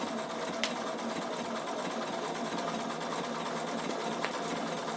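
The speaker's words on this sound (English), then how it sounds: "So I'm actually stitching my base fabric and then it will be appliqued." Close and steady, a Bernina sewing machine runs continuously while stitching base fabric for an appliqué, a fast even mechanical whir with a couple of faint clicks and no voices.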